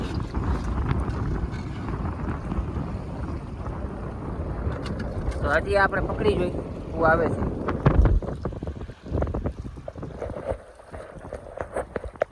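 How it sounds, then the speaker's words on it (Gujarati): Strong wind at sea roars across the microphone aboard a small fishing boat, steady and loud with rushing water beneath. Someone talks over it in the middle and again near the end. "આ તમે જોવો છો કેવો પવન ઉપડી ગયો છે"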